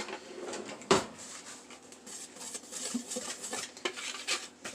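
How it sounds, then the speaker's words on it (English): Whisk rapidly stirring dry cookie ingredients, baking soda among them, in a bowl, giving quiet scraping and clinking with one sharp knock near the start. "we're going to just whisk all these dry ingredients together"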